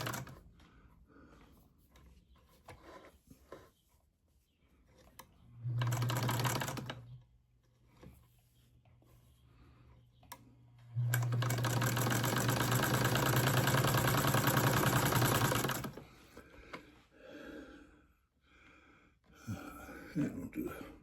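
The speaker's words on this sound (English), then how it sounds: "let's make some stitches here. Doesn't that sound nice?" A domestic sewing machine making stitches runs in two bursts, a short one and then a longer steady whirring run, with quiet talk in the pauses around them.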